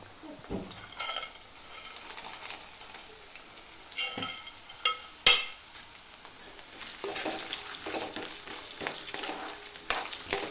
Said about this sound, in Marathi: शेंगदाणे पण छानपैकी फ्राय करायचे तुपामध्ये।